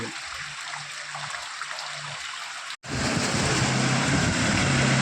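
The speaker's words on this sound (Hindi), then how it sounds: "देखिए एक मोटरसाइकिल और जा रहा है कते मशक्कत कर बेचारा के डूब नहीं जाए मोटरसाइकिल।" A motorcycle pushes through floodwater in a flooded market street, a continuous rushing, sloshing wash with a low engine hum underneath, loud and close, with a brief dropout midway.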